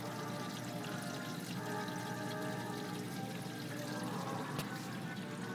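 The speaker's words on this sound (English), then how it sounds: "See it, if I turn this, you can see it dripping in there." Water pours and trickles continuously from an Aqua Medic Reefdoser 4 dosing pump setup into a reef aquarium container, a steady close liquid splash with one sharp click near the end.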